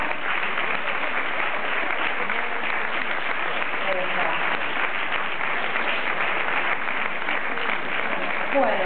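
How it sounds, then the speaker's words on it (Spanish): A crowd at a tango dance competition applauds steadily and loudly throughout, a dense, continuous wash of clapping with no pauses. "fuerte el aplauso para las cuatro parejas"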